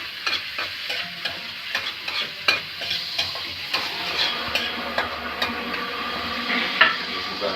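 Chopped tomatoes stirred into a hot frying pan with bones already cooking, a spatula scraping and tapping in a steady rhythm over continuous close sizzling.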